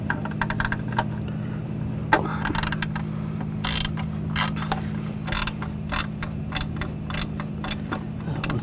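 A ratchet with an M8 triple square socket works on turbo bolts under a 2009-2017 Volkswagen Tiguan, giving close, rapid clicking bursts in an uneven rhythm over a steady low hum.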